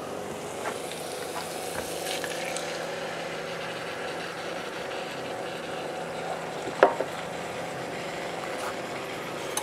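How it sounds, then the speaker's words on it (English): Beef and potato taco filling with tomato sauce gets stirred in a pan, giving a steady low sizzle with soft scraping and one brief clink, faint and continuous throughout. "I'm going to stir it around."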